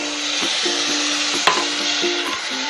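Khoya mixed with sugar, cardamom and milk is stirred continuously in a pan, a soft, steady scraping and faint sizzle with a repeating tonal hum behind it and one sharp clink midway; nobody speaks.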